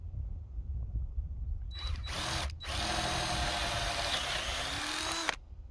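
A power drill bores into wooden fence brace lumber during a gate install, starting with a short burst and then running in one loud, sustained, steady whine for about three seconds before stopping.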